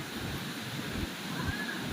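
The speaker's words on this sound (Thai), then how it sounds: "ลมค่อนข้างแรงครับ" Strong wind on a seaside beach beside a villa: a steady, loud broadband roar of gusts buffeting the microphone, mixed with the low wash of surf and no talking.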